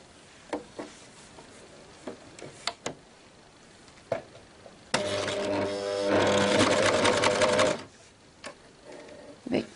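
An overlock serger on a test run while making a tiered skirt with a gathering foot, its fast steady stitching hum running about three seconds between scattered light clicks and handling taps.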